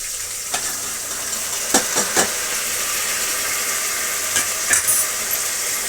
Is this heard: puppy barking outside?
no